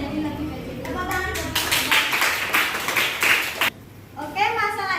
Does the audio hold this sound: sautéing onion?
no